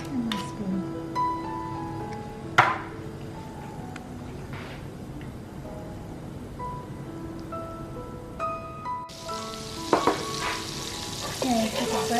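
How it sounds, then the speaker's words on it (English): Butter melts in a pan for fried wings with a steady, soft sizzle and frying crackle, close up, with occasional clinks of a spoon against the pan and a brief, louder burst of sizzling near the end. "So this requires quite a bit of butter. So we're going to let it melt for a minute."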